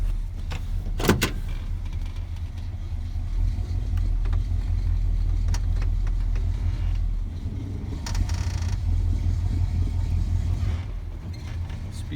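A square body truck, two-wheel drive on new tires, drives through snow after a cold start, its engine a steady low rumble throughout, with a few clunks and creaks from the cab and no talking.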